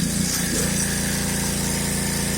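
A Karcher 3,000 PSI pressure washer runs with its trigger pulled, feeding 75 feet of hose, giving a loud, steady droning pump and spray hiss that holds evenly for a few seconds without speech.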